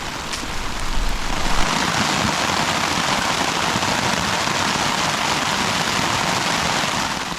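Steady rain drums on a tarp shelter among trees, a dense, continuous patter that stays loud and even from start to finish, with no voices.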